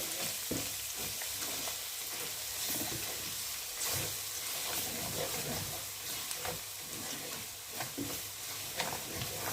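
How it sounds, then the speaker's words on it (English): Spices with crushed bay leaf and rock salt fry in a pan, giving a constant soft sizzle and crackle with occasional stirring scrapes, steady and moderately quiet. "So let it fry all together."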